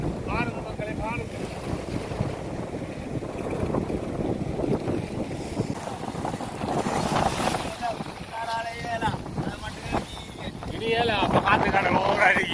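Strong wind buffets the microphone on a fishing boat at sea, with rushing waves and water beneath it, steady and loud throughout while someone talks over it.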